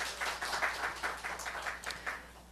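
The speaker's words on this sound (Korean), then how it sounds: "그렇게 하실 하나님께 박수 올려." A church congregation applauds during a Monday morning service, a soft and steady wash of many hands clapping at a moderate distance, with no voices over it.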